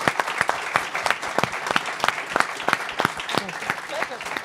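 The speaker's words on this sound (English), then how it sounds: "a round of applause for our panelists here" Audience at a defense forum panel applauding, a steady patter of many clapping hands that stays fairly even, with a voice speaking over it.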